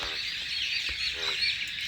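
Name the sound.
frog croaking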